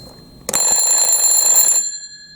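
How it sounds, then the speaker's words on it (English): A loud, shrill alarm clock bell starts abruptly and rings continuously for over a second before stopping, with a brief ringing decay. "now I'm going to flip the switch to turn the alarm on"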